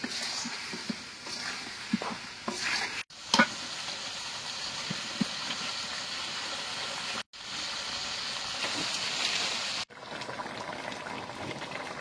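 Homemade ghee going into a desi duck bhuna cooking on a clay stove, with a steady close sizzle and frying crackle, light stirring scrapes and a few short breaks.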